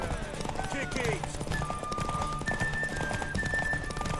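Hooves clip-clop rapidly as a horse gallops in a race in The Witcher 3, with occasional whinnies and other game sounds mixed in, under voices talking throughout.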